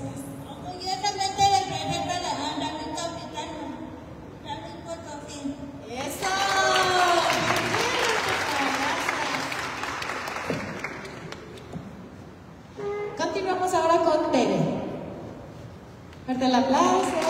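Audience applause swells in waves at a pageant presenting ambassador candidates for the 2024 Feria Nacional Potosina, alternating with someone speaking over a microphone between bursts.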